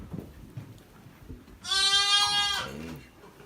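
A single sheep bleat on a farm, loud and wavering, lasting about a second and standing alone over faint background noise.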